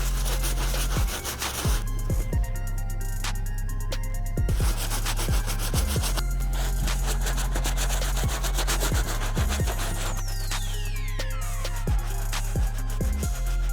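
A brush scrubbing the dirty leather and stitching of a Jordan 7 Pacific Blue sneaker, steady close rubbing strokes that run continuously, with occasional knocks and scrapes punctuating the scrubbing.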